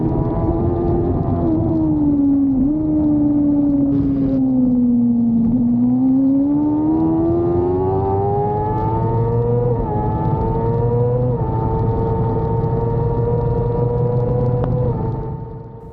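A WERA C Superbike racing motorcycle at Road Atlanta revs loud and steady from up close, its engine pitch sinking and then climbing again as it holds speed, with wind roar throughout and no voices.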